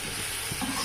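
Eggplant stir-fries in a pan for a gravy dish, giving a brief, steady sizzle with a faint scrape of stirring partway through.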